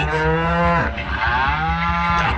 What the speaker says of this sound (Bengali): ত্রিফলা খাওয়ার পর গরুটি বিশাল গর্জন করে কাঁপতে লাগলো